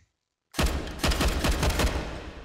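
A G36 rifle chambered in 5.56 fires in the VR shooting game H3VR: after half a second of silence comes a loud, sustained rapid burst of booming shots that rolls on for about two seconds.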